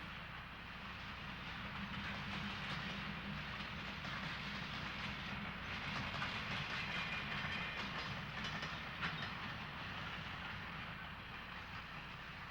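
Electric interurban train drifting downgrade through a pear orchard, a steady rolling rumble of wheels on rails with faint clicking, moderately distant and continuous.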